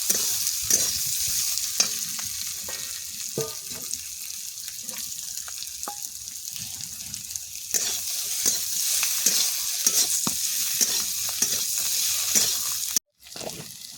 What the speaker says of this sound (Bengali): নেড়ে চেড়ে এবার ভেজে রাখা সবজিগুলো দিয়ে দিচ্ছি। চিংড়ি মাছগুলোও দিয়ে দিচ্ছি।